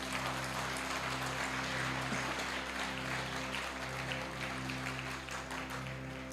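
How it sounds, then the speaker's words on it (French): Applause from a congregation during a French-language sermon, a continuous fairly even patter of clapping over a steady low electrical hum, no talk. "Est-ce qu'on peut applaudir mon Dieu pour moi c'est pas sérieux."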